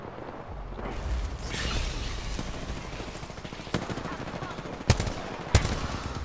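Gunfire in an Apex Legends match, a steady distant rattle of automatic shots with a few sharper nearby cracks toward the end.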